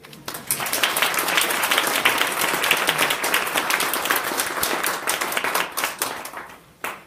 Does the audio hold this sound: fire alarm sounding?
no